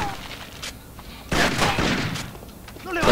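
Pistol gunfire in Rainbow Six Vegas: a few sharp, loud shots in quick succession over game ambience, with a voice speaking faintly underneath.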